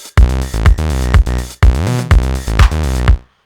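An acid bass synth patch in Logic's Alchemy plays a gliding bass line, overlapping notes sliding into one another. It sounds bright and resonant, loud and up close, with a steady run of notes that stops abruptly at the end.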